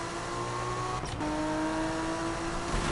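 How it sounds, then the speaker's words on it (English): Car engine in Need for Speed 2015 holding a steady drone with a brief shift in pitch about a third of the way in, then settling into a sustained tone, loud and alone. "like car sounds are like really,"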